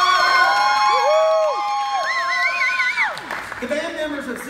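An audience at a young talent show cheers for a band taking the stage, with loud whoops and high shouted voices rising and falling over a lighter bed of crowd noise.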